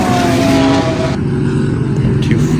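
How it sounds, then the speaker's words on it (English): The number 4 Porsche race car roars loudly in a sim racing endurance championship event at Ryula Circuit. A steady engine drone with a high whine cuts away after about a second, leaving a lower, continuous rumble. "We see the number 4 Porsche also coming."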